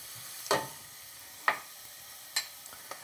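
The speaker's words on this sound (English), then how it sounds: "As the garlic starts to pick up some color and starts to jump around in the hot oil" Garlic jumps in hot oil with onion and celery, making a faint, sparse sizzle. A few sharp pops and crackles stand out at irregular intervals over a quiet background.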